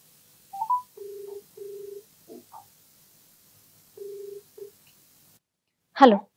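A telephone call being placed: a few quick dial tones, then steady tone bursts of the line ringing out, with a short loud voice burst at the end.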